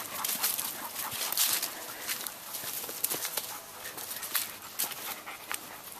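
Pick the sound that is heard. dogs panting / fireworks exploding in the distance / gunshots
dogs panting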